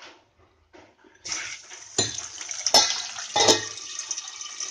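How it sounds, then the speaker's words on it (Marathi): Green peas drop into hot oil in a kadhai and break into a bright, crackling sizzle, preceded and punctuated by a few metallic clinks of utensils; no one speaks. "वटाणे कढईत गेल्या त्याच्यावर झाकण ठेवणे खूप गरजेचं आहे"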